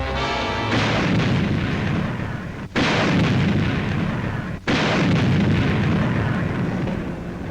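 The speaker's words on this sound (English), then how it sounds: "Town after town was shelled, attacked, and taken" World War II artillery shells towns in 1943 newsreel footage, a loud, continuous rumbling barrage of heavy booms and blasts that fills the whole stretch, broken only by two brief cuts.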